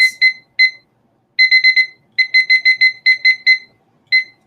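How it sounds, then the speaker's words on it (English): A timer alarm goes off in loud electronic beeps, first singly and then in rapid clusters of three to five, separated by short silences, with no voices heard. "if Lisa knew how to set the timer"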